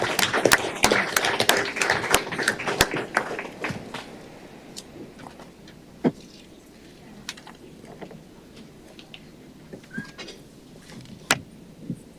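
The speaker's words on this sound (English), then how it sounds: "let's give our Way to Go runners a round of applause again" An audience at a Board of Commissioners meeting claps for the Way to Go runners, with a dense burst of applause that quickly thins to scattered claps and faint room noise.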